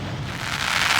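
Wind and rain sweep across open ground near the Ghataprabha river dam in the Western Ghats, a steady broadband rush that swells louder toward the end, with no voices.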